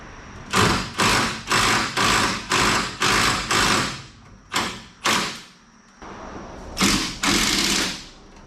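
An impact wrench hammers at frame bolts on a 1979 El Camino, a rapid series of short loud rattling bursts in a steady rhythm, then a pause and a few more bursts, close and without talk.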